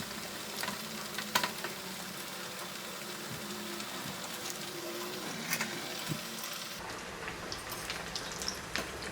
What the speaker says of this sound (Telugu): ఇవి చక్కగా ఎర్రగా కాలేంత వరకు మనము డీప్ ఫ్రై చేసుకుని ఆయిల్ అనేది కిందకి జారేటట్లుగా పక్కకు ఉంచుకోవాలి